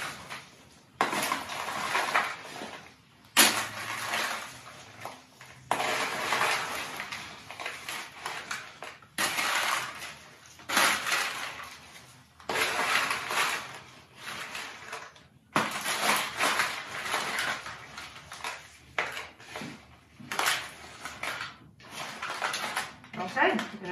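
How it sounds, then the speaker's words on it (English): Smoked Chex party mix being stirred in a pan, giving repeated scraping, rustling and light clattering bursts of dry cereal pieces, with pauses and talk over it. "So I'm just going to give it a good stir."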